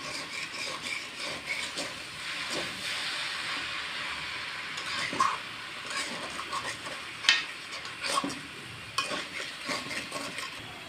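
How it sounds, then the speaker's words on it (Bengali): Semai vermicelli being stirred with sugar in a pan for sweet zorda, a steady scraping and faint sizzling texture with scattered louder knocks of the spoon against the pan, fairly quiet throughout. "চিনিটা দিয়ে ভালোভাবে সেমাইটা নেড়ে নিব।"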